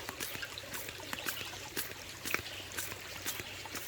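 Water trickles and splashes in rhythmic spurts as a hand pump water filter fills a bottle beside a creek, steady and close with faint outdoor ambience.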